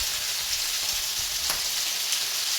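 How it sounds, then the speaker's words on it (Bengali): Lentils for khichuri fry in a pan with a close, dense, continuous crackling sizzle, steady and fairly loud, with a faint stir or tap partway through and no talking. "আর এই ডালটা আমার ভাজা হয়ে গেছে,"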